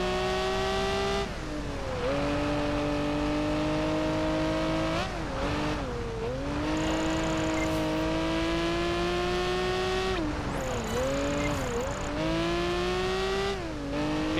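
A race car engine in Project Gotham Racing 4 drones loud and steady, its pitch dipping and climbing as the car is thrown into handbrake drifts, with brief tire squeals at the transitions.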